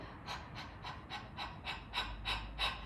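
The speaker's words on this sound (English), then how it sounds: "So what I do when I practice my breathing before I start singing is to do some panting." A classical singer pants in quick, even bursts as a breathing warm-up before singing, about three breaths a second, close and steady, with no talking.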